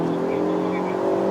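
A Hyundai Elantra N in its N Grin Shift boost mode accelerates down a straight on a circuit, a brief, steady, loud engine hum with strong tonal drone, while someone talks over it.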